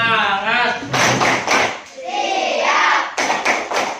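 Schoolchildren in a classroom perform a rhythmic spirit clap, their chanting voices loud throughout, punctuated by sharp groups of claps.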